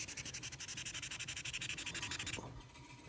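A stubby is hand sanded with 3000 grit sandpaper in quick, even back-and-forth strokes, a close, rhythmic rasp that stops abruptly near the end.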